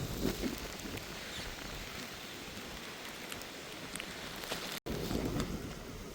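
Heavy rain pours steadily across a coastal area of Jaffna during a low-pressure storm, a dense continuous hiss heard close with wind behind it and a brief cut near the end.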